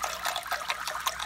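An aquarium filter runs in a home tank while the water level rises during a water change, giving a continuous close trickling and splashing with small irregular gurgles.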